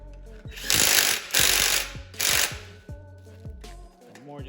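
A torque wrench tightens exhaust bolts on an RJC crossflow exhaust, making three loud, buzzy bursts of ratcheting followed by lighter clicks and a low mechanical hum.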